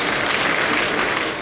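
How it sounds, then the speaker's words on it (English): Dense, steady applause comes from an audience at a symposium and book launch, a brief unbroken wash of many hands clapping together. "a resounding round of applause"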